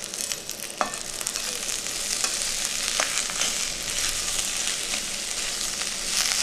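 Samosa masala frying with chopped coriander leaves in a pan, a constant close sizzle broken by occasional spatula scrapes and taps as the mixture is stirred, with no talking.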